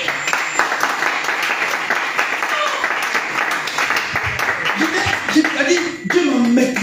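A church congregation applauds loudly and steadily at a French-language spiritual teaching week, the dense clapping running throughout with voices and light chuckles mixed in near the end.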